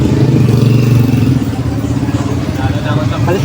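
A motorcycle engine idles close by with a low, rough, pulsing rumble and some clatter, while a person talks over it.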